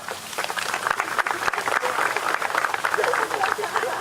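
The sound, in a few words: applause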